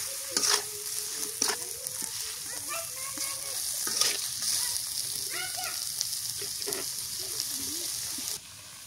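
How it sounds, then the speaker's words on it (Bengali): Beef tripe with salt, turmeric and spices is stir-fried in a pan, a continuous sizzle under scraping stirs and a few clanks of utensil on metal, with a voice talking intermittently over the cooking. "এদিকে বুড়িও কষানো হইতেছে"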